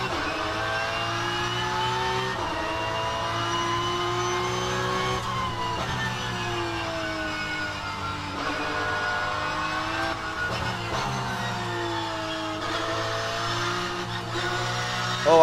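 A Porsche race car in a sim racing game drones steadily, its engine note rising and falling through repeated gear shifts and revs, loud and continuous with no talk over it.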